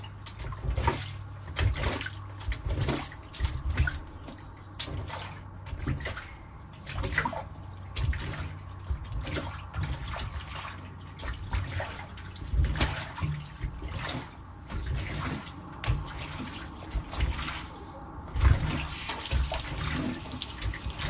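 Water spreading across a floor: continuous splashing and running water, close and fairly loud, with irregular surges and gurgles over about twenty seconds and no clear talk.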